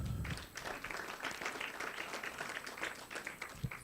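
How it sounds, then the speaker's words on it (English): An audience at a Kenyan nutrition profile model launch event claps together in a fairly faint, steady burst of applause lasting a few seconds. "A round of applause."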